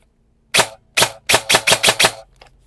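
A G&G FAR9 airsoft gun in macaron blue fires seven sharp, close snapping shots: two spaced single shots, then five in quick succession, followed by silence.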